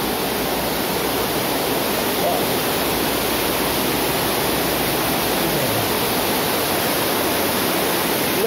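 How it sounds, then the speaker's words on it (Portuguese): Water pouring down from a water-wheel outdoor shower at Jaguaruna, a loud, continuous broadband rush and splash that stays constant throughout, close by with no break. "Vou tomar um banho aqui, ó, o barulho d'água."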